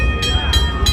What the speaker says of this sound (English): This is an authentic steam engine